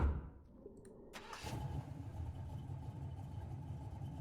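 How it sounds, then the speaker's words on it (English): A vehicle engine cranks and catches, then settles into a steady, rumbling idle that runs on alone at moderate volume. "With that, Big Rig starts his engine."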